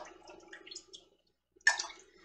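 Water being ladled out of a pressure canner holding submerged jars, a few soft scooping trickles followed by a distinct splashing pour, close and quiet.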